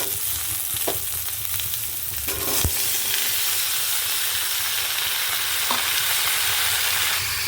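Squash stir-frying in hot oil over already fried onions and whole spices, a close, continuous loud sizzle with a few sharp clatters of a spatula against the pan, no voices.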